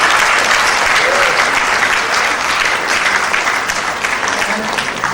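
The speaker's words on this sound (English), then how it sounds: "we need to applaud the Nigerian midwife" A conference audience at the inaugural Global Midwifery Conference in Nigeria, 2016, applauds Nigerian midwives with loud, dense, sustained clapping that holds steady for several seconds before easing slightly toward the end.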